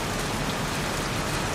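Heavy rain pours steadily in the video game Heavy Rain, an unbroken wash of drops drumming on surfaces, close and uniform throughout.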